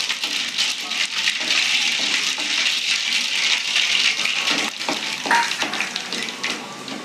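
Dried red chilies and mustard seeds sizzle in hot oil while making Tirunelveli idli upma, a steady close crackling fry with scattered pops and stirring rattles throughout, and no talking.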